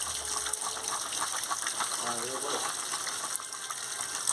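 Banana stem washed under running water, a steady gush and splash of flowing water with some handling noise, while a person speaks briefly over it.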